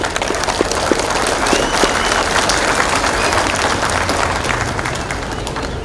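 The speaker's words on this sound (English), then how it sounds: "Round of applause, please." A crowd of guests and cadets applauds steadily at a school cadet pass-out parade, dense loud clapping sustained throughout with a faint murmur of voices beneath.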